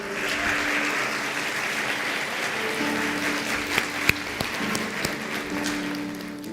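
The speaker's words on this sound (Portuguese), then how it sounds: "Você pode aplaudir ao Senhor?" A church congregation claps for the Lord in steady, sustained applause that fills the room, with organ-like held tones underneath and a few sharper individual claps standing out near the end.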